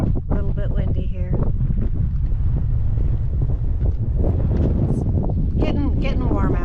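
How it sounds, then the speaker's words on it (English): Strong wind gusting on a Hawaiian hiking trail, loud steady buffeting roar across the microphone, with a person's voice talking briefly over it. "A little bit windy here."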